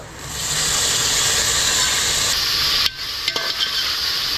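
Tomatoes dropped into frying onions with Kashmiri red chilli for methi pulao, a loud steady sizzling hiss that cuts off abruptly, followed by a few light clicks and scrapes, no speech.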